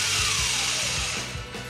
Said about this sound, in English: I decided to continue grinding to get most of the damage removed